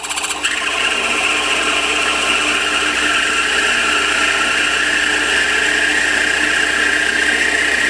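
A 1/4 inch cobalt drill bores into metal for a ball turning tool, giving a steady, close, unbroken grinding whine with a bright rasping edge and no voices.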